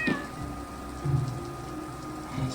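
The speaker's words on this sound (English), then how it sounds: "The cat looks thirsty." A cat meows a few times in the Poptropica video game, short cries spaced out over a low, steady background hum.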